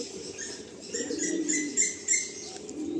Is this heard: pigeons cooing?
yes